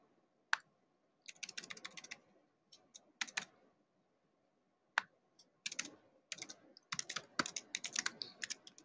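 Someone typing C++ code on a computer keyboard: close, crisp bursts of rapid keystrokes separated by short silent pauses, with no talking.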